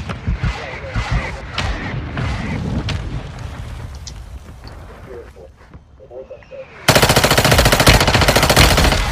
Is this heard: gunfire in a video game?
yes